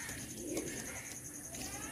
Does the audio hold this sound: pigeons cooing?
yes